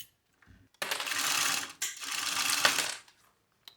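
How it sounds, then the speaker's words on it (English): A sewing machine stitches a quarter-inch seam on a small sunglass case, with two steady whirring bursts of about a second each separated by a brief pause, close and clear with no talking. "now we're going to sew this at about 1/4 of an inch seam allowance"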